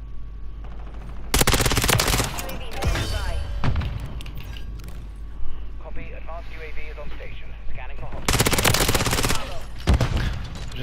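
Rapid bursts of ISO 9mm submachine gun fire in Call of Duty: Modern Warfare III, loud sustained volleys at the start and again near the end, with a player talking over the action between them.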